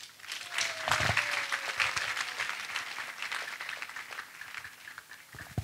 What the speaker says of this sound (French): Acclamation ensemble